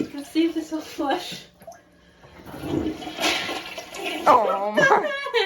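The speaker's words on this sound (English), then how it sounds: "Let's see if this will flush." A household toilet flushes after being plunged for a blockage, the rushing water swelling and gurgling up close while someone talks over it.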